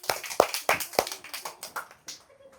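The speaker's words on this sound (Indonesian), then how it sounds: "Nah, tepuk tangan semuanya." A school class claps together after a forward-roll gymnastics lesson, a run of sharp, slightly uneven claps that tapers off near the end, with no talking.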